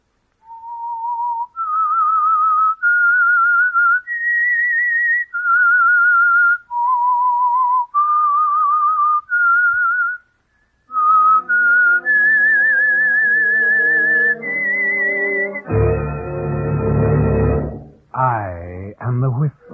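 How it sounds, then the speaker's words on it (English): A clear, close whistled melody of held notes rising and falling, the opening signal of the 1947 radio program The Whistler, then joined by orchestral music swelling underneath toward the end. "That whistle is your signal for the Signal Oil Program"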